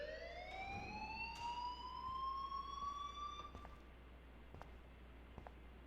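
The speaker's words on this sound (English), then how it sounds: "They're gonna know that I'm the one who, or Max is the one who broke the fire alarm." A fire alarm in the Life is Strange video game wails with a rising electronic tone over steady low background noise, followed by a few faint clicks and knocks, with no voices.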